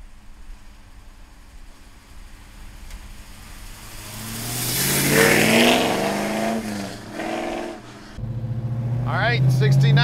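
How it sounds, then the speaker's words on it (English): A black 1969 Dodge Charger with a 440 V8 and four-speed manual revs up loudly, climbing through gears with a roaring surge, dipping and then pulling hard again; someone talks near the end. "69 Charger, let's go for a ride. 440 four-speed, black car."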